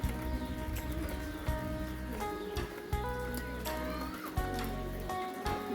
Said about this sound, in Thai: ฝนก็กำลังตกอยู่ตอนนี้